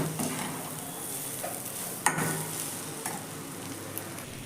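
Spiced masala is sautéed in a pan for egg fried rice: a close, continuous sizzle with frequent scraping stirs and a sharp knock of the spoon partway through, and no voices.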